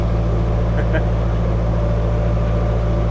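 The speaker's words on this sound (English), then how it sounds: "The only noise is our engine, which, to be honest, we don't mind." A canal boat's engine runs at a constant steady drone, close and loud, with an even low hum that stays unchanged throughout, and no other sound stands out over it.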